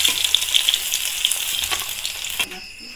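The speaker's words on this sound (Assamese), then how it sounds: "পকোৰাখিনি অলপ ৰংচুৱাকৈ ভাজি ল'ব" Ash gourd pakoras deep-fry in hot oil with a bright, crackling sizzle and sharp popping spatters. The sizzle falls away abruptly near the end as they are lifted out.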